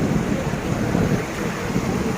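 Jamjir waterfall in heavy rain, a steady dense roar of rushing water with no breaks, loud and broadband, filling the whole moment without voices.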